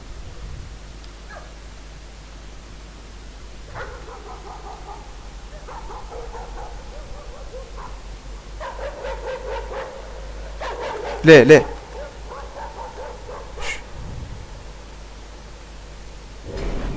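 In the horror video game Layers of Fear, a dog barks in repeated bursts over several seconds, with one sharper loud outburst, while someone talks over the game.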